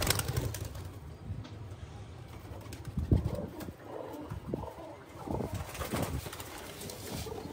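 Inside a coop, several pigeons give low rolling coos and grumbling calls, with a sharp knock or flutter near the middle and steady soft shuffling, heard close and quiet.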